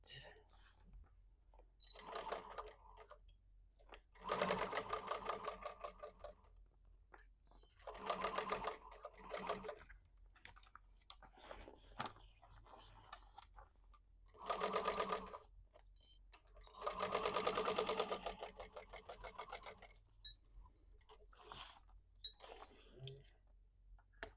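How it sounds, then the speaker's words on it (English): A sewing machine stitching a purse lining shut runs in several short bursts of rapid mechanical whirring, each a second or two long, separated by quieter pauses with soft handling noises. "so now we can sew the lining shut."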